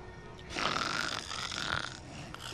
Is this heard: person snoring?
yes